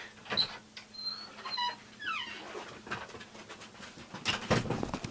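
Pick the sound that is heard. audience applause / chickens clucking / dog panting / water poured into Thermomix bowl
dog panting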